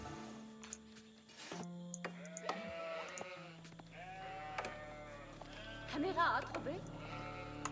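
Sheep in the strategy video game Age of Empires IV bleat repeatedly in short, wavering calls, several overlapping bleats rising and falling amid game sounds, with a commentator talking over them.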